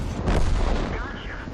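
T26E4 Super Pershing tank cannon firing in World of Tanks, a single deep booming shot with a heavy low rumble that swells quickly and then decays over about a second.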